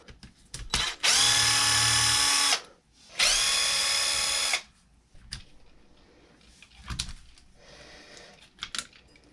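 A power driver backs out the rear link screws on a Losi LMT radio-control truck: two loud, sustained whining bursts of about a second and a half each, followed by lighter clicks and handling taps of the small parts.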